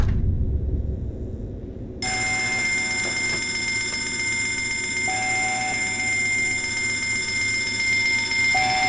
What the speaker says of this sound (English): Literally just got a school dinner bell